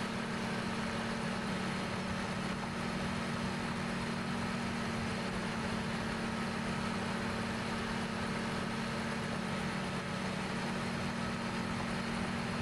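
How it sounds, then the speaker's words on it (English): A John Deere 9620R tractor in Farming Simulator 17 pulls a 2720 disc ripper while plowing, its engine giving a steady, even drone with a low hum that holds unchanged throughout, with no talk over it. "Got the John Deere 9620R plowing with a 2720 disc ripper"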